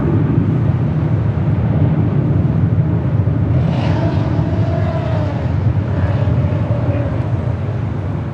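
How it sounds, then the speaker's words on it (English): An Emirates A380 airliner taxiing across a runway at Los Angeles International Airport, a steady loud low engine rumble and whine throughout, with wind buffeting the microphone and faint higher engine tones rising midway. "The Emirates A380 now crossing over 25 left there on the south side."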